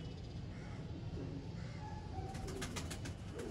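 Pigeons cooing in a breeder's loft in Sialkot, soft repeated coos over a steady low background hum, with a few brief bird calls toward the end.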